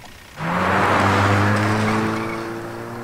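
A car speeds in from quiet and roars close by with sustained tire squeal and skidding, engine loud and steady before easing slightly at the end, in a dramatic movie scene.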